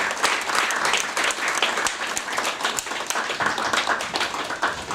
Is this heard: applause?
yes